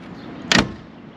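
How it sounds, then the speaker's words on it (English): Door of a 1955 Oldsmobile 88 swinging shut: a single solid clunk, close and fairly loud, rising briefly out of steady background noise. "All the doors close"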